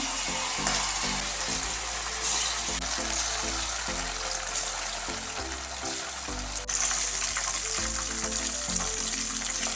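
Tuna fish pieces for chilli fry in hot oil, a loud continuous sizzle with steady crackling and a low rumbling hum underneath throughout.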